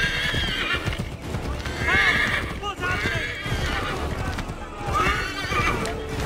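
A horse in Assassin's Creed 3 neighs and whinnies repeatedly over the steady clip-clop of its hooves, with voices talking alongside.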